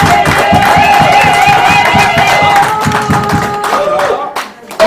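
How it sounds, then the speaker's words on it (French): Guests at a civil wedding ceremony break into loud, dense applause with some cheering, a crowd clapping steadily for several seconds before it fades out. "acclamons très fort"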